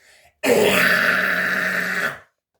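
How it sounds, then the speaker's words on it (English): A single sustained false chord metal scream, loud and close, rough and gritty, lasting nearly two seconds before cutting off, with no other voices. "now I can do false chords that sound like this"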